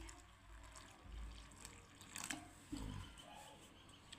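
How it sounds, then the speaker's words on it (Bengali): Water is poured into flour mixed with salt and oil for a steamed coconut-filled flour dough, a soft, close trickle and splash with light kitchen clatter. "এবারে আমি পরিমাণ মতো জল দিচ্ছি"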